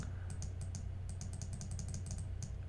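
A computer mouse clicks rapidly and repeatedly in quick, uneven bursts, close and crisp over a low steady hum.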